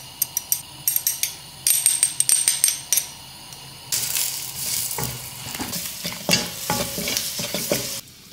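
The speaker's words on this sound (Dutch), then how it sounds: "Bakken met 2 theelepel paprika poeder." Two teaspoons of paprika powder fry in olive oil in a wok pan while being stirred, with scraping and clicking utensil sounds at first, then a loud steady sizzle broken by repeated scrapes, close and without talking.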